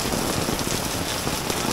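Steady rain falls on surfaces in Rajapur market, a close, constant hiss of pattering drops with no pauses and no talking.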